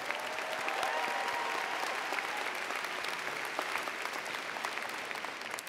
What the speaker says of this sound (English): let's give a big round of applause for your family, who has always been there for you, and your teachers for all their hard work